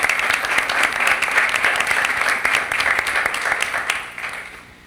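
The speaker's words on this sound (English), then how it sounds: "A round of applause for these 2 fine scholars" A school board meeting audience gives a round of applause for two scholars: dense, steady clapping from a room of people for about four seconds, then thinning out and fading.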